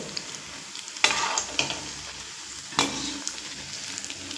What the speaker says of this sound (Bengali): তো এইভাবে উল্টে পাল্টে একটু লাল করে ভেজে নেব।